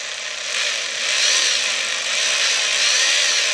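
A power drill spins its bit to grind out a broken bolt, a loud continuous high-pitched grinding whir that swells slightly in waves, close up with no talking.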